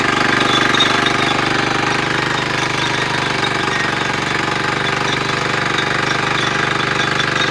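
A 7 HP Kama engine tiller runs with a loud, steady, close chugging drone that holds unchanged throughout.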